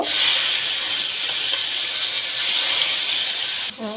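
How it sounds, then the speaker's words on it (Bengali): Rohu fish pieces frying on a hot tawa give a steady, loud hissing sizzle that holds throughout, then drops off abruptly near the end. "এখন দিয়ে দেবো তাওয়াতে মাছগুলো ভেজে নেব"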